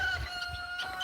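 Chickens on a farm give a few soft, low clucks close by, with a faint, steady background tone running underneath.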